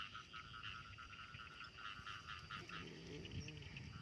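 Frogs croak after rain in a rural setting. A dense, faint chorus of rapid trilling calls runs continuously, with some lower, throatier croaks joining near the end.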